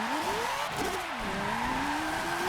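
Rotary-swapped race car in the Forza 7 video game, its engine revving with a rising and falling pitch and rear tyres squealing and spinning freely, loud and steady throughout with no talk.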